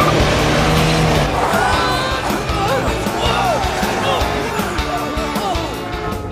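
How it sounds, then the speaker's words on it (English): A primitive cartoon car in an animated Winx Club episode revs and accelerates with a loud, continuous engine roar, sweeping pitch rises and bursts of tire squeal. "now here we go. Just give it a little gas."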